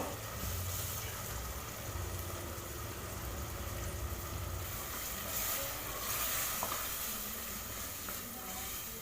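Ground masala sautéing in oil over a medium flame, a continuous low frying hiss with a faint steady hum underneath, close and unbroken, with no voices.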